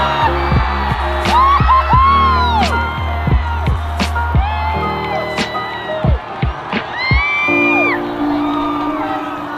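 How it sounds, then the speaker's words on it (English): A huge crowd roars, whoops and cheers at the finish of a marathon as Eliud Kipchoge crosses the line in under two hours. The shouting is loud and continuous, with voices rising and falling and carrying through the whole stretch. "crossed the line with the greatest roar from a crowd I have ever heard"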